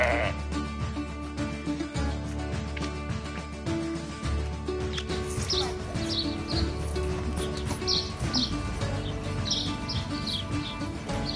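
Sheep bleating on a farm, several loud calls repeating over a steady bed of flock noise and faint bird chirps, close and continuous.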